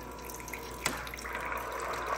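Water pouring from a Bartesian cocktail maker during its first-use cleaning cycle, a steady close splashing stream into a glass, starting with a brief clunk and continuing evenly.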